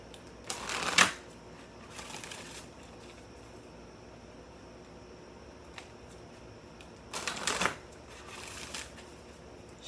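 Tarot cards riffled and shuffled during a reading, two crisp close bursts of card flutter a few seconds apart, separated by quiet room tone.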